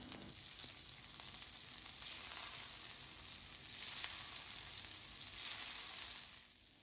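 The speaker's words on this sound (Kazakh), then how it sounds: "Енді қызып тұрған табаға 100 грамм сары май салып ерітіп аламыз." About 100 grams of butter melts in a hot frying pan, giving a steady, even hiss and sizzle that runs throughout and fades slightly at the end, with no talking.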